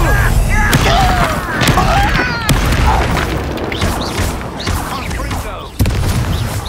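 Incendio fire spell cast in the Hogwarts Legacy video game amid combat, loud booming blasts and crashing impacts in a dense, continuous barrage with sharp hits scattered throughout.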